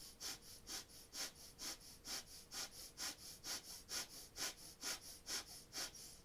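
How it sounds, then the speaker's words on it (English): Rapid, rhythmic yoga breath-of-fire exhalations pulse through the nose about three times per second, each a short, sharp, airy puff, steady and even, close to the mic with nothing else heard. "you're doing breath of fire in this posture"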